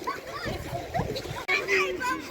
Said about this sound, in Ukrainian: Миємо ножки вже спаласкуємо